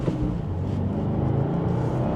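A 2025 Subaru WRX tS engine pulls as the car gets back up to speed, a steady, moderately loud in-cabin drone with low harmonics rising slightly and no voices over it.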